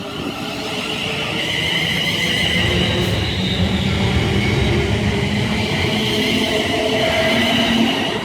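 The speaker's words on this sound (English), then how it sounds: "now departing is going to be the 1309 service, which is delayed by 1 minute, and that's off to Crewe via Stoke-on-Trent" A train departing Tamworth station on the West Coast Main Line gives a steady, continuous rumble and rolling hum for the whole stretch, fairly close and loud with no talk over it.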